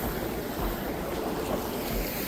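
Strong wind roars and buffets the microphone outdoors at the bottom of Fontana Dam, a continuous loud rush with rumbling low gusts and no voices.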